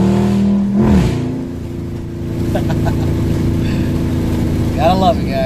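A Dodge Charger Daytona revs hard while sliding sideways through a turn, its loud, close engine roar holding a steady drone with brief pitch swings.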